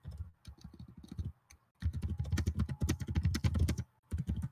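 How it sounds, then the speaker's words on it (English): Fast typing on a computer keyboard during political strategy gameplay: dense bursts of close clicky keystrokes, a short pause, then a longer rapid run and a final burst, with no talk. "You having fun typing there"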